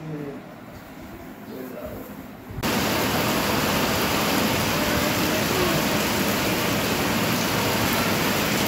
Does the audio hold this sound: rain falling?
yes